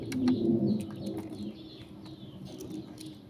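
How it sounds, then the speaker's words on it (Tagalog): A small chick cheeps in quick, high, thin peeps, repeated in a loose series over a low, muffled background. "May sisiw siya maliit."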